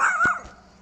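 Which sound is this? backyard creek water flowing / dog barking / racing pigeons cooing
dog barking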